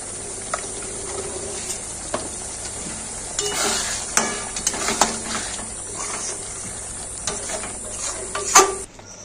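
Chicken chaap simmers in a pan over a low gas flame, a soft steady sizzle with occasional stirring scrapes and a sharper clink near the end.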